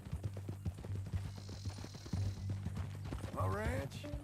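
Horse hooves clip-clop in Red Dead Redemption 2, a steady close trotting rhythm under spoken game dialogue, ending with a short whinny near the end.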